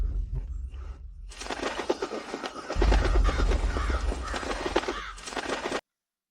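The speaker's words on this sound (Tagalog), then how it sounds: "Ang daming uwak. Umaalingaw-ngaw ang mga uwak." Many crows cawing repeatedly in a dense, overlapping chorus, loud and persistent before cutting off abruptly.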